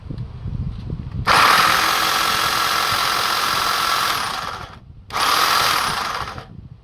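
A repaired Black and Decker GT200 hedge cutter runs loudly with a steady high motor whine and buzzing blade, cutting out briefly before starting again at full speed.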